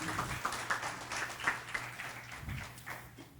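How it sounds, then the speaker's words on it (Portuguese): Faint, fairly distant applause from a church congregation, a loose patter of many hands that holds steady and then thins out, with a low hum and murmuring voices beneath it. "uma salva de palmas para eles"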